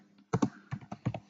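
A short burst of computer keyboard typing, five or six distinct close keystrokes in an uneven rhythm, with no voice.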